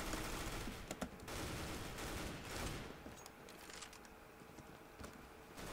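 Rapid gunfire from a CS:GO match, a burst of automatic shots near the start followed by scattered single reports over a steady game background, with no talk.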